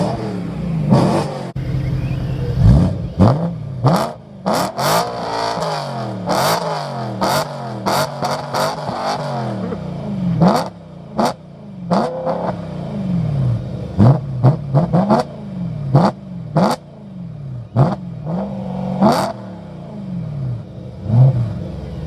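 A BMW E92 M3 with a DCT gearbox and V8 engine revs hard under acceleration, with repeated rising engine sweeps and sharp upshifts, loud and close, with no talk.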